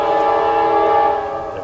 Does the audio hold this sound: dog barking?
no